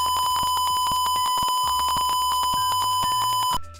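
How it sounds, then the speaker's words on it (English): An electronic buzzer beeps on and off in rapid pulses, a steady shrill tone switching repeatedly for several seconds before cutting off, loud and close with no talk. "you can see it's buzzing, it'll be going, and then it'll be silent"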